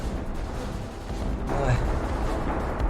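Ship cannons fire in the Roblox naval combat game Dead Ahead, heard as a deep boom and rumbling burst about halfway through over a constant game background, with a person talking.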